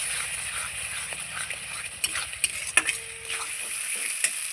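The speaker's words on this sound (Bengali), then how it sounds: "আবারও আমি একটু ভালো করে কষিয়ে নেব" Tengra fish curry masala sizzling and frying in a pan while being stirred, a steady close hiss with a few sharp clicks of the utensil scraping through it.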